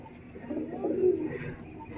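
A pigeon in a loft gives a single soft, low, throaty coo, close by and moderately quiet, against a faint steady background.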